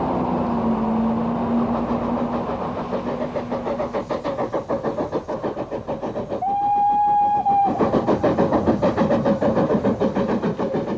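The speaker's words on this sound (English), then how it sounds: "the train was drawn forward so that the second terrier could take water" Steam train drawn forward by a Terrier tank locomotive at a level road crossing, with a rhythmic chuffing exhaust that quickens, a long steady tone early on, and a short clear whistle blast near the middle.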